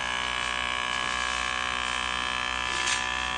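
Vacuum blender attachment runs with a steady electric motor whine, a continuous buzzing hum held close and constant throughout, with no voices.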